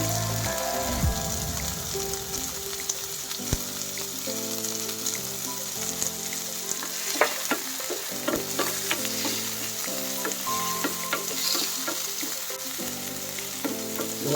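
Tomatoes fry in a pan with bacon for spaghetti, making a constant crackling sizzle with occasional stirring scrapes, steady and close, and no voices over it.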